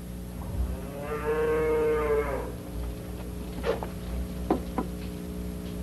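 A hungry cow in a 1969 spaghetti western gives one long, close, drawn-out moo, followed by a few sharp knocks over a steady low background hum.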